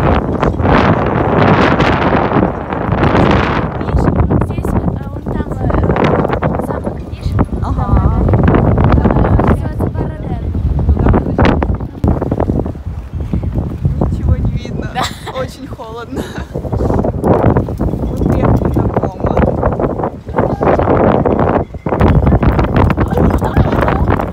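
Strong storm wind buffets the microphone outdoors at Lake Como, roaring loud and steady throughout with gusty surges and rustling, while people talk intermittently under the noise.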